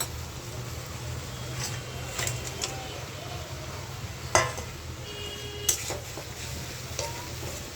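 Fish is added to a pan of cooked-down spice masala, giving a soft, steady frying sizzle with occasional sharp utensil knocks against the pan; a bird calls faintly in the background.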